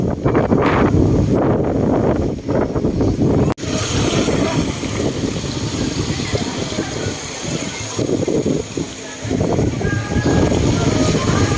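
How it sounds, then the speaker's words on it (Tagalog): Strong wind buffets the microphone at a scenic outdoor viewpoint in San Mateo, Rizal, in a loud, continuous roar with gusty surges, and faint voices are partly buried beneath it. "Mahangin siya."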